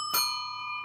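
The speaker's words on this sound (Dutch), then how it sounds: "Probeer het maar uit met een fietsbel" A single bright ring of a bicycle bell, struck once near the start and left to shimmer and fade.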